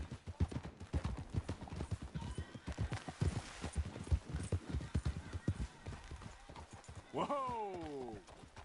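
Hooves of horses clip-clopping along a trail in Red Dead Redemption 2, a steady rhythmic gait under scattered game dialogue, ending with a loud whinny as the riders pull up.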